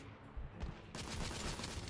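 Pistol gunfire in the video game The Order: 1886 comes as a burst of dense, rapid shots over a rumbling background, loud and continuous for about two seconds.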